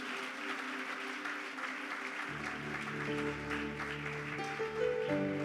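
A church congregation at a revival conference claps steadily in praise, a sustained wash of applause joined midway by music with sustained organ or keyboard tones.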